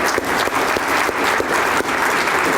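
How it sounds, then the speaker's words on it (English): Steady, loud audience applause for the city mayor, a dense continuous wash of many hands clapping from start to finish. "Another round of applause for him, please."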